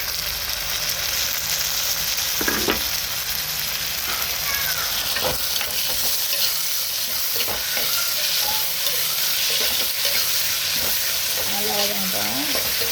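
Tomatoes and green chilli sautéing with curry leaves in a pan, a loud steady sizzle broken by intermittent clicks and scrapes of stirring throughout, with no one talking.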